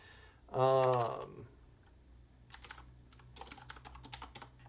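Typing on a computer keyboard, a quick run of clicky keystrokes in bursts after a short spoken remark, close and fairly clear.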